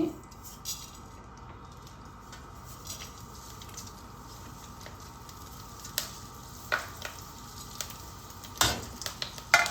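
Tempering for sabudana upma sizzles steadily in a pan, with light clinks and scrapes of a stirring utensil and faint speech underneath.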